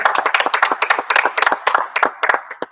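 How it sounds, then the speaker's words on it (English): A small audience applauds students being inducted at a student of the month presentation: sparse, distinct hand claps from a few people, close and uneven, irregular bursts that thin out toward the end. "Huge round of applause for Cassidy and Megan."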